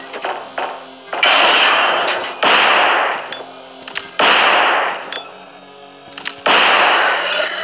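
Loud gunshots in Resident Evil 2, four heavy blasts spaced about every one and a half to two seconds, each ringing out and decaying, with a few clicks and smaller taps between them.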